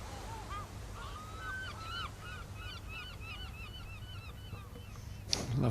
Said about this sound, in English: Lovely the sound of the seagulls